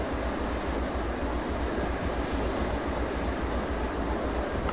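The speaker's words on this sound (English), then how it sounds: "Look at how long the train is." Long freight train of about thirteen cars hauled by two locomotives in Derail Valley, rolling near 70 with a steady low rumble and rhythmic wheel-on-rail thumps, continuous and fairly loud throughout.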